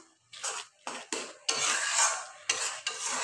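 Chicken curry gravy is stirred and sautéed in a pan, with bursts of scraping and sizzling broken by short pauses and a spoon rasping against metal, close and fairly loud.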